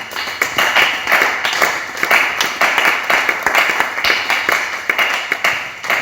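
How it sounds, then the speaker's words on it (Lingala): A church congregation claps in acclaim during a service, a dense, loud, sustained burst of many hands with a steady rhythmic pulse throughout. "On acclame pour la parole de Dieu."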